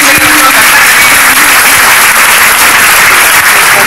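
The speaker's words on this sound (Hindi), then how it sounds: "शानदार ताली और लाउड अप्लॉज" Loud, dense applause and clapping from an audience fills the whole stretch, steady and close with no break.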